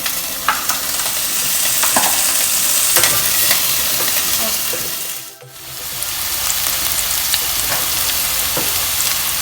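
Garlic and potatoes frying in hot oil in a pan, a dense continuous sizzle close by with occasional stirring scrapes and a brief dip midway.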